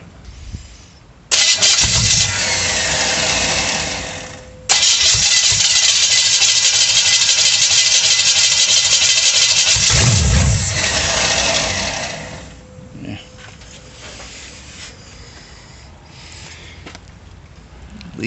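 A 1937 Dodge Brothers engine fitted with a Holley 650 carburetor cranks briefly and catches, then runs loud and steady at close range for several seconds before it dies down to a quieter rough idle with a few faint knocks.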